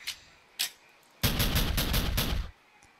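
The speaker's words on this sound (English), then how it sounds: "Okay, he is firing." Enemy gunfire in a modded shooter game: two brief single shots, then a loud sustained burst of rapid automatic fire lasting over a second before cutting off.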